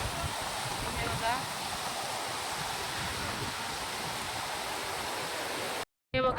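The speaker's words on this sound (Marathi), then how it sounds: "हा आहे वॉटरफॉल." Vasudhara waterfall near Badrinath roars as a steady broadband rush of falling water, constant and full throughout, with a brief dropout near the end.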